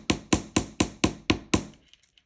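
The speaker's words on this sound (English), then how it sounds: "We're going to come back around, continue to hammer." Six sharp metallic taps ring out at an even pace as a wire earring hoop is hammered, close and bright, followed by a few faint lighter ticks.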